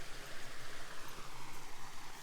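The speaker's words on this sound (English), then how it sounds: "You guys can hear the waterfall. It's right there." Waterfall in the woods, a soft, steady broadband rush of falling water, faint and distant, with no voices.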